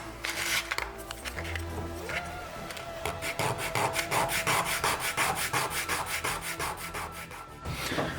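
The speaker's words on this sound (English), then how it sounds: "I'm also filing them down to a taper so that I can stick them together like this" Wooden roof pieces for a TARDIS model being filed to a taper, giving a steady run of close, rhythmic rasping strokes that repeat evenly throughout.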